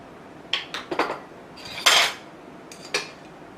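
A spoon clinks against a bowl while stirring a homemade ice cream mixture with a little added topping, giving a few separate sharp scrapes and taps spread over a few seconds, close and fairly clear.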